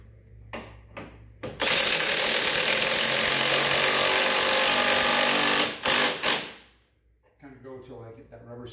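Bolts being cranked down with a tool while installing a 2-inch lift kit on a 2019 Polaris Sportsman 850 HO Premium: a few close clicks, then a loud continuous mechanical rattle for about four seconds, short bursts, and a stop.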